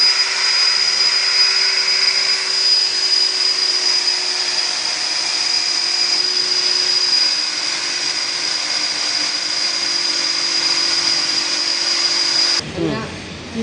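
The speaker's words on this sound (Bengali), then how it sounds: "কোর কাটিং শেষের পর্যায়ে পুরো চলে এসেছে।" A core cutting machine drills through a wall for a pipe, giving a steady loud motorized whine with a high tonal hum that runs continuously before cutting off near the end.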